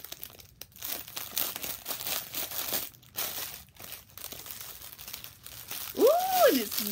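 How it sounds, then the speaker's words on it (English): Plastic crinkles and rustles in close, uneven bursts for several seconds, with a short voiced sound near the end. "So it's in this plastic bag"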